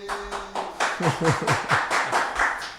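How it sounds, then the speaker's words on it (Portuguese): A small backstage crew claps in a quick, uneven burst of about a dozen hand claps, close by, after a brief tone and a few spoken syllables. "batam palmas, por favor"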